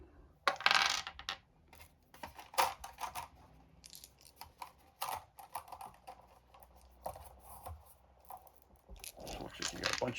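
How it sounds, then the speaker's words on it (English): Board game dice are handled from a game box, making sharp plastic clicks and rattles in quick irregular bursts, close and fairly quiet, with no speech. "So looks like you got a bunch of different types of dice here."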